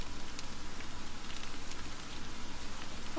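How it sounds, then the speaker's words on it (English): Steady patter of rain in a video game, Don't Starve, a soft continuous hiss with scattered drops, fairly quiet and even throughout. "Ooh, it's raining."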